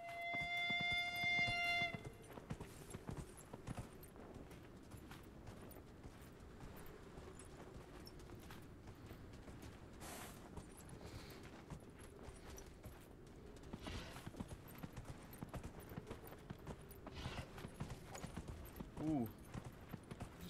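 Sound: horse hooves trotting, from video game Dragon Age: Inquisition

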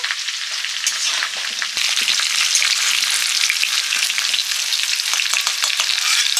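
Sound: potatoes frying in oil

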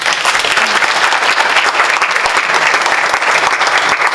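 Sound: audience applause for foster youth

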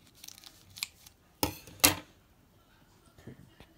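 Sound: cutting open rice cake packaging

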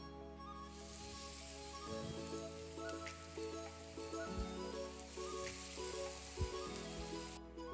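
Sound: food frying in oil

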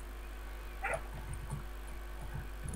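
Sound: dog barking in the video game Minecraft

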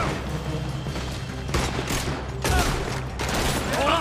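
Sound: gunfire in the video game Red Dead Redemption 2

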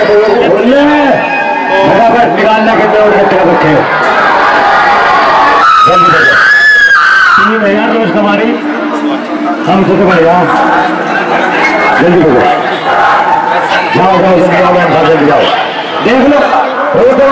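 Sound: crowd at the Mandi Shivratri fair, Himachal Pradesh

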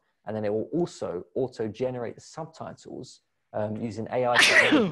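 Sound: sneeze

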